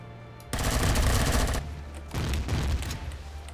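Rapid bursts of gunfire from weapons shooting at a tower in Empyrion Galactic Survival, a loud sustained volley, a brief pause, then a second burst.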